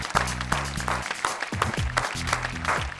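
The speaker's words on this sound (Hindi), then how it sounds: "जोरदार तालियां।" Applause from the audience at a televised Hindi poetry show, a steady wash of many hands clapping heard over a music bed.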